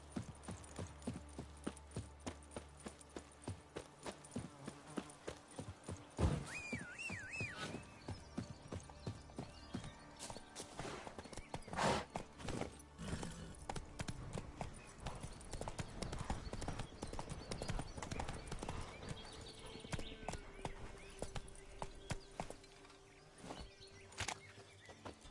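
Horse hooves clip-clop in The Witcher video game, a soft steady walking rhythm among ambient game sounds, with a brief horse snort or whinny and faint birds.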